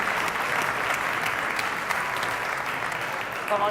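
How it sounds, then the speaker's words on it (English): An audience at a corporate shareholder day event applauds scholarship recipients, a sustained, even wash of many hands clapping at steady loudness throughout. "An applause,"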